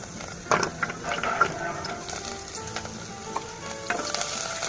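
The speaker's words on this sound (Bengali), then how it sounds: "তো আমি এখানে কড়াইতে হচ্ছে অল্প কিছু পরিমাণ তেল দিই, সাথে আমি এখানে অ্যাড করে দিচ্ছি পেঁয়াজ" A little oil sizzles with onions in a wok, a steady crackling fry broken by a few louder scraping stirs, close and without talk.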